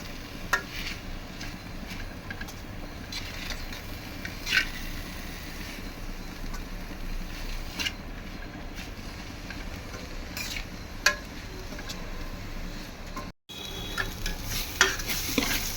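Vallarai greens stirred and sautéed in a pan make a faint, steady sizzle, with scattered soft scrapes and clicks of a spoon against the pan throughout; no talk.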